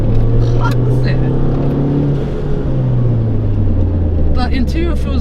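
Engine of a 2009 R56 Mini Cooper S carrying through winding twisty roads, a steady loud drone with rising and falling pitch as it pulls through the bends, with some speech over it.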